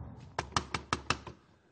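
Six sharp knocks on a door at a steady, even pace, fairly close and clear, fading slightly on the last rap, with no talking over them.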